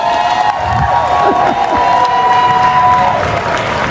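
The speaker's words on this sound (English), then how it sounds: "Let's give her a well-deserved round of applause." An audience at an elementary school Black History program applauds Dr. Rebecca Darden, a dense, steady wash of clapping mixed with cheers that holds at full volume throughout.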